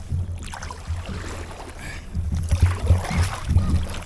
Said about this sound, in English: Just row the boat.